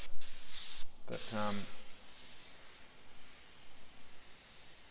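A Sagola XTECH 500 airbrush sprays paint in short hissing bursts, with a brief soft voice and a low mechanical buzz, followed by a fainter steady hiss close by.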